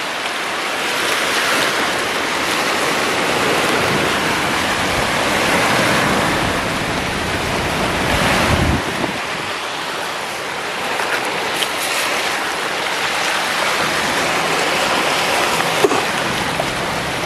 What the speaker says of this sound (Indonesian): Wow, lagi beriak ombaknya ya